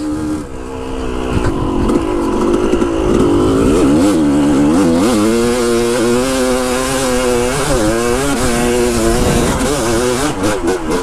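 A motorcycle engine fitted with a Lectron carburetor revs hard and close, its pitch rising and falling in repeated throttle blips over a sustained loud roar.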